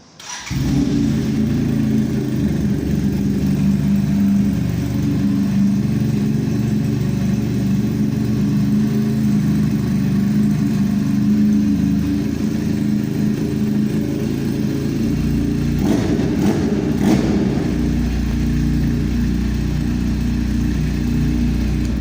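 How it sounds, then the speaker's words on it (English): A Zongshen 400 parallel-twin motorcycle engine idles with a throaty, steady rumble, then briefly revs up near the end before settling back into a lower idle. "Here's a sound check of what a parallel twin engine sounds like."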